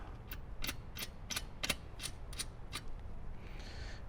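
Nuts are tightened down onto washers during a Kicker amp and subwoofer install in a 2007–2018 Jeep Wrangler JK, giving a faint, evenly spaced series of about ten sharp ratcheting clicks.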